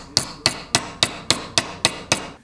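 Eight sharp, evenly spaced metallic hammer blows ring out in quick succession, close and loud, as a metal subframe part is bent, with no talk.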